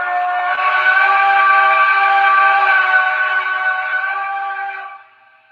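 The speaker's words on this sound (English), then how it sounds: "Let's hear that whistle one last time. Here's the playable whistle on this." An O scale model train's playable whistle sounds in one long, loud, steady multi-tone blast of about five seconds before cutting off, heard alone.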